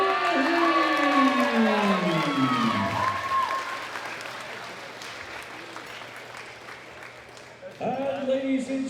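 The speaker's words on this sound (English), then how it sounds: "a big round of applause for USA's Russell Orhe" An arena crowd at the 2018 World Classic Powerlifting Championships, men's open 83 kg, gives steady applause for the silver medal winner, clapping under and after an announcer's amplified voice.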